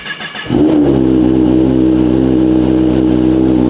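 A Kawasaki ZX10R sport bike fitted with a Leo Vince exhaust fires up after a quiet moment, catching with a sharp bark and then settling into a loud, steady, throaty idle up close, with no voices.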